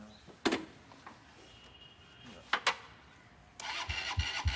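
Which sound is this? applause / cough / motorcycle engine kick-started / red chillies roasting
motorcycle engine kick-started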